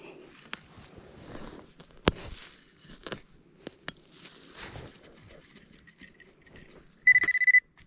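Metal detector at a campground: a short burst of rapid electronic beeps near the end, preceded by scattered faint clicks, taps and rustling from digging and handling, quiet and close, with no speech.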